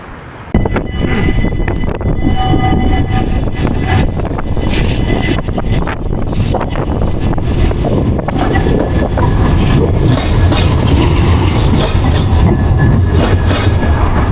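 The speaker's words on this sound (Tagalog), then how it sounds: "Maliit lang siya na train." A small train passes close by in the Netherlands, a loud continuous rumble with rhythmic clickety-clack from the rails that holds steady for the whole stretch.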